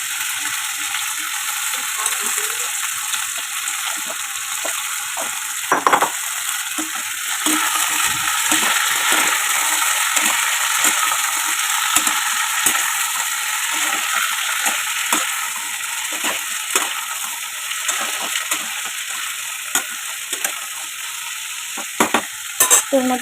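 Mixed vegetables for shukto, including potato, eggplant, sweet potato, papaya and drumstick, frying in a pan while being stirred, giving a steady sizzle with scraping stirs throughout and no talking.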